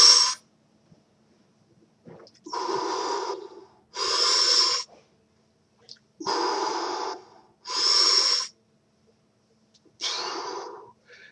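Forceful breaths out and in during weight exercise on a pec deck machine, heard as six loud, close, breathy bursts about two seconds apart, each roughly a second long, with short silences between them.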